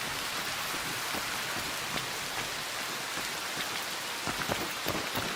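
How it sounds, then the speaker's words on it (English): Steady ambient rain in a video game hisses evenly across the whole scene, loud and constant. A few faint drop ticks rise above it, and no voices are heard. "Ambient rain sounds."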